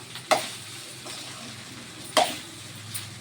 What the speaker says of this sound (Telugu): రైస్ వేసింది కదా కలపండి ఇదిగోండి నేను కలుపుతున్నా